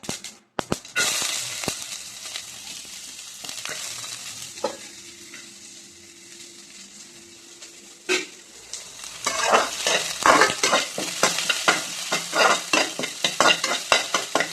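Mustard seeds, cumin, onion and curry leaves hitting hot oil in a pan: sharp sizzling bursts and stirring scrapes, a quieter stretch with a steady hum, then a dense run of rapid crackling pops as the seeds splutter.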